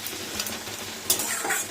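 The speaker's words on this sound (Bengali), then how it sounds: "পেঁয়াজটা ভাজা হোক।" Sliced onion frying in hot oil with whole spices such as garam masala and mustard seeds, a steady bright sizzle stirred now and then, with a few scraping spoon strokes and clinks from the pan.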